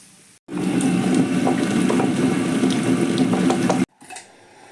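Half a coconut is grated by hand to make coconut milk, producing a dense, continuous scraping and rasping for about three seconds, close and fairly loud, ending abruptly and followed by a brief quieter rustle.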